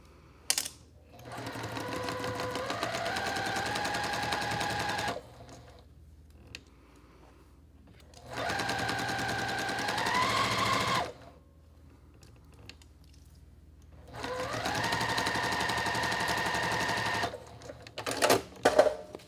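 A sewing machine stitches a quilt block seam in three steady whirring runs separated by quiet pauses, close and fairly soft.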